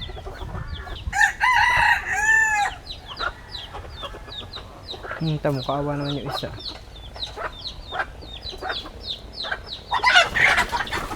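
Chickens cluck and squawk nearby in a busy yard, with a rooster crowing partway through and a person speaking briefly in Filipino.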